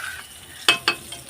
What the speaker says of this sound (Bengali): মাছগুলো আমি সব দিয়ে দিলাম এক্ষুনি।